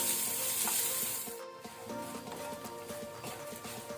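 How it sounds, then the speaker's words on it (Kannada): Garlic, green chilli and urad dal fry in oil on a low flame, giving a steady close-up sizzle with soft crackles and occasional stirring scrapes. "ಇದನ್ನೀಗ ನಾವು ಲೋ ಫ್ಲೇಮಲ್ಲಿ ಫ್ರೈ ಮಾಡ್ಕೊಳ್ಳುವ."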